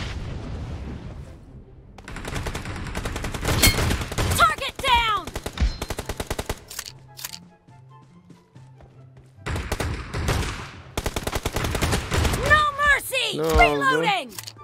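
Rapid bursts of gunfire from a shotgun in the PUBG Mobile battle game, with clusters of loud shots and thuds separated by short pauses, while a voice talks over the action.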